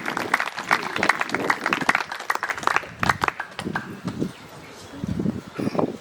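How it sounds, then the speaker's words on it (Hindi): Applause from an audience at a cultural festival stage program, rising as a dense crackle of clapping for a performer coming up, with a voice speaking over it and the clapping thinning toward the end. "तो जोरदार तालियां मां श्रद्धा के लिए।"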